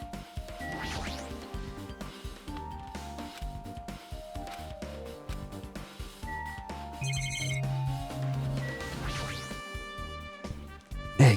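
An alarm clock in Danganronpa 2 rings in repeated electronic bursts over game music, with bright, chiming pulses recurring through the passage and a loud spike at the very end.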